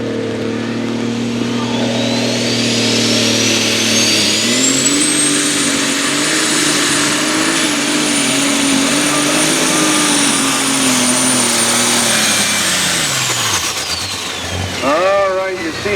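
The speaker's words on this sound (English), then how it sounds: "Thomas Bedgar with the Patriot 1066 International Super Stalker, 504 cubic inch with 2 turbos." A Patriot 1066 International Super Stalker pulling tractor with a 504 cubic inch twin-turbo engine roars loudly at a tractor pull, a sustained heavy drone with a rising turbo whine that holds steady, then winds down near the end.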